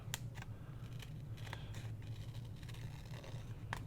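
Scissors trim the edge of a glue-soaked postcard made from a book page, making a few slow, damp snipping crunches spaced apart, close up over a steady low hum, with no talking.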